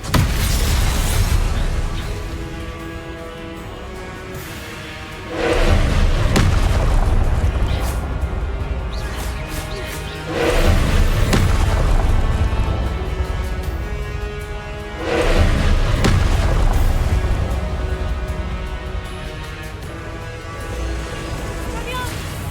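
Fiery Confringo blasting spells cast in the fantasy game Hogwarts Legacy: three loud booming bursts arrive about every five seconds, each swelling out of a steady rumbling game backdrop with music-like tones.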